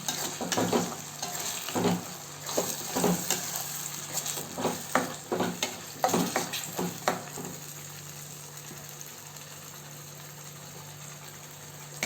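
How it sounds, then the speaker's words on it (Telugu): Masala frying in a pan for a country chicken curry, a sizzle under irregular loud spoon scrapes and stirring knocks for the first seven seconds, then a quieter steady hiss with a faint hum. "బాగా మసాలా ఇలా మసాలా బాగా వేయించుకోవాలి"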